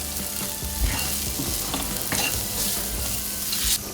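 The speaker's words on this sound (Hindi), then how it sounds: "सभी मसालों को अच्छे से मिक्स कर लेंगे।" Spices being stirred into hot oil in a frying pan while cooking masala oats, with a steady close sizzle and soft scraping of the spoon throughout, no voices.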